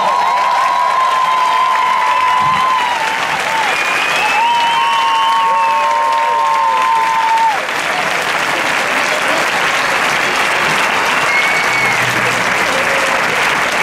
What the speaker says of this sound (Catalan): us demano un fort, fort aplaudiment per l'escolania de Ciutadella,